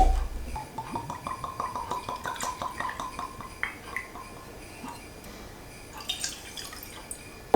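Ardbeg 10 peated single malt Scotch whisky poured into a glass, a close gurgling trickle with glugging bubbles over several seconds, followed by faint glass clinks near the end.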